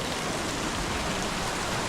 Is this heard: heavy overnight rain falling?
yes